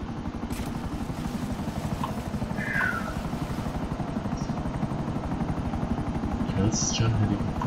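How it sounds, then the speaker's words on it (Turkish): Helicopter flying in Grand Theft Auto V, its rotor producing a steady, rapid low chopping pulse that continues throughout, close and fairly loud, with brief game sound effects layered over it. "Oğlum bu helikopter ne kadar seri gidiyor."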